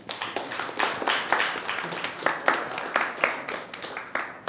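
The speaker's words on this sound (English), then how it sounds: "Big round of applause for Troy." Audience gives a round of applause at a body language talk show, dense steady clapping, fairly faint and continuous throughout.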